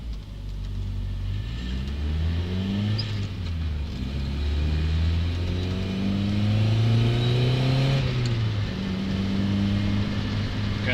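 A manual-transmission car pulls away and accelerates, its engine climbing through several gears with revs rising and dropping at each shift, heard from inside the cabin with no talk.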